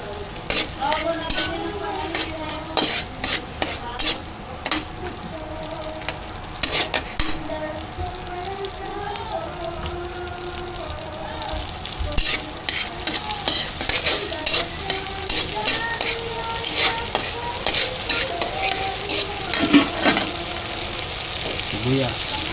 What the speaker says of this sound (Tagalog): Tapos lagay natin ang bawang.